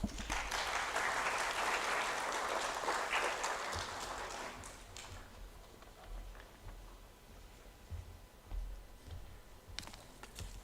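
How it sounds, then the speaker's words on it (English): Audience applause welcoming the Director General of the Bureau of Indian Standards at a formal event, dense clapping for about five seconds that then thins to scattered claps and fades, with a few late claps near the end. "Please welcome him with a loud round of applause."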